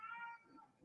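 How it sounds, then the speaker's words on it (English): A pet cat meows in a short, drawn-out call with a bright harmonic tone that fades into a lower, softer tail, close by and fairly quiet, heard alone. "if you can hear our crazy cat in the background"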